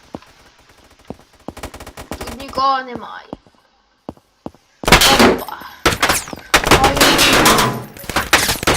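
Rifle gunfire in a Roblox game comes as rapid metallic bursts, sparse early shots and then dense loud volleys, with a voice speaking between the shots.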